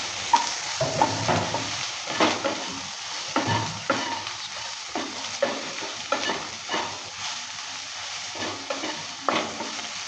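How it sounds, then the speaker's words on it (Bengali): Soybean chunks with salt and turmeric powder frying in a pan as a spoon stirs them, with repeated scraping strokes over a continuous close sizzle. "লবণ হলুদটা দেওয়ার পর ভালো করে আবারও নেড়ে চেড়ে নিচ্ছি।"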